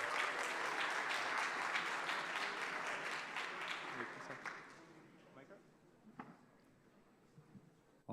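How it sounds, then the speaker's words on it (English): Applause at a hackathon closing ceremony in Istanbul, as an audience claps loudly for a finalist team, dense at first and then thinning into scattered claps after about four seconds, with a few voices. "Please give a big round of applause for ZK Vote."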